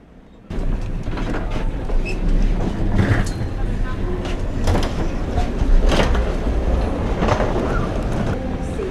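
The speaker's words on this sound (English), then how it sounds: "The people mover at London Heathrow, connecting Concourse A, B and C." An airport people mover train at London Heathrow rolls steadily along the track after a sudden start, with continuous rumbling and scattered clacks and rattles, fairly close and loud.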